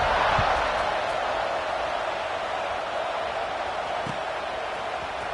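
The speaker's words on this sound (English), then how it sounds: "this crowd is buzzing after that last score" A stadium crowd at an Ohio State vs Georgia football game keeps up a steady, broad roar that fills the space, loud and continuous, with a couple of faint thumps underneath.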